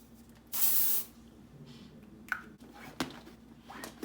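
Deodorant body spray bursts from an aerosol can in one loud, close half-second hiss, followed by quiet handling clicks and rustles with no talk.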